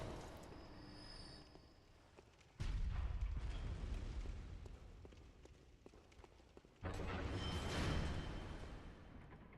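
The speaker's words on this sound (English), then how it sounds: "These guys have cannons." Cannon fire in the Bloodborne chalice dungeon video game booms twice in heavy, loud bursts a few seconds apart, each followed by a sustained rumbling roar, over quieter ambient game sound with no talking.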